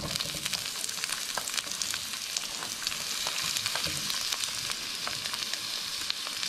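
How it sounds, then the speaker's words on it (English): Chopped onion fries in hot oil with mustard seeds and curry leaves for a Sri Lankan tomato curry. A dense, continuous sizzle is close and even, with crackling pops and no voices. "I'm going to add one small chopped onion"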